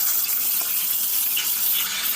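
Continuous loud hiss of an espresso machine steam wand blowing into water, steady and close, with a slight bubbling texture throughout.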